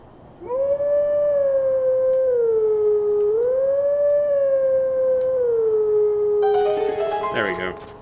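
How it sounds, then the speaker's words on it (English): A wolf in the video game Twilight Princess gives one long sustained howl, clear and steady with a slight rise and fall in pitch, and a brief burst of game chimes near the end. "howling does not sound very good."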